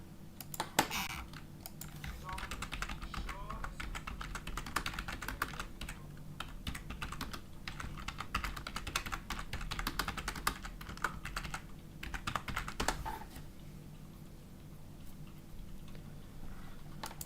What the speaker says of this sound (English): Am I typing so loud that you can hear it in the stream?